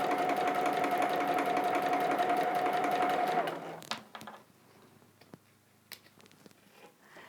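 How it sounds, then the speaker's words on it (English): A sewing machine stitches patchwork along a marked diagonal line, a close, fast, even whirring hum that runs for about three and a half seconds and then stops, followed by quiet handling clicks and small taps. "I'm just stitching right on that marked diagonal line"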